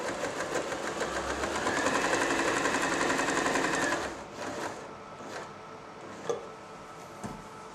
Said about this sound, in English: the machine will straight stitch with either the needle on the left of the foot or the centre of the foot